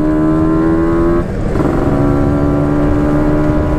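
A Yamaha RX King two-stroke motorcycle rides close by on a road, its engine a steady, loud buzzing drone that dips briefly and then picks back up as it passes, with no voices.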